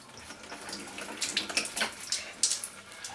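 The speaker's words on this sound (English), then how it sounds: "so water can then start running freely out of the control" Water runs freely out of a swimming pool dosing and control unit during pool closedown, a steady splashing trickle with irregular spattering bursts, fairly close and moderately quiet.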